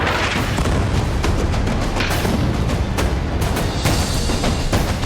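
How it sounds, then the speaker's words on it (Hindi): Israeli artillery and rocket fire striking Lebanon, a dense, loud barrage of booming blasts and rumbling detonations that overlap continuously with sharp cracks breaking through, no voices. "इजराइल ने अपनी बंदूकों, तोप और रॉकेट्स के मुंह को लेबनान की तरफ खोल दिया और भीषण तबाही मचाई।"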